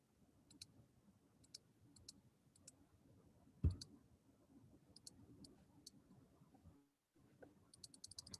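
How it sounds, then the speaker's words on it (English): Computer mouse clicks during a remote screen-sharing session, sharp isolated ticks spaced irregularly over quiet room noise, with one louder knock near the middle and a quick cluster of clicks at the end. "Yeah, I'm clicking and nothing happens."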